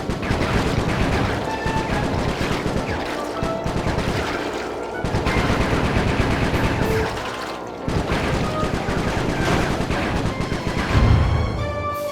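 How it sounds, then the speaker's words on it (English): Dense, continuous gunfire from the Sly Cooper video game, with rapid shots and crashing impacts layered over a busy game soundtrack for the full length. "Nice shooting, Bentley."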